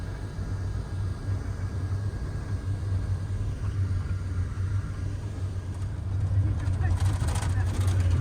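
Steady low engine rumble from the inside of a free Cunard shuttle minibus climbing a steep road up to the town of Sorrento, Italy, constant and fairly loud with a brief rise in road noise near the end.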